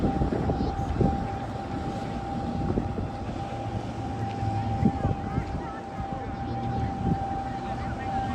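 A jet ski engine drones steadily on coastal water, a sustained whining tone that holds for several seconds over rumbling wind and wave noise, with faint knocks and splashes mixed in.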